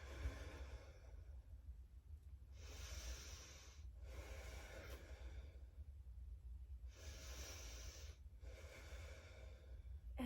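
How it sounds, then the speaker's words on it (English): Quiet breathing during a gentle yoga stretch for the lower back and shoulders, four soft, airy breaths in two pairs, close and faint, against a low background hum. "deep breath out"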